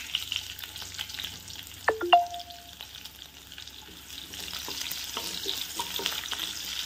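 Cubed onion sautés in a pan over a medium flame for a restaurant-style pasta, giving a steady soft sizzle with a couple of sharp utensil clinks near the start.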